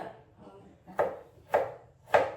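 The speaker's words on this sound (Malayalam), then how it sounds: "ഇനി നമുക്ക് ജിഞ്ചർ പേസ്റ്റ് വേണം. അതിന് അരിഞ്ഞുകൊണ്ടിരിക്കുക." A knife chops ginger on a cutting board for ginger paste in a home kitchen: three sharp, evenly spaced thuds about half a second apart, close and clear with no talking.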